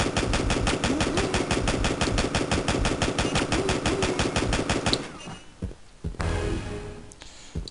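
Weapon fire in the video game Backtrack, a long, loud, evenly spaced automatic burst of rapid shots for about five seconds, then stopping, followed by a short quieter burst of noise.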